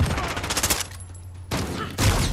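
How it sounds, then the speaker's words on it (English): Gunfire in Call of Duty Modern Warfare, dense rapid bursts of shots filling the mix, breaking off briefly and then resuming loudly. "How did he shoot that quickly? He literally just shot."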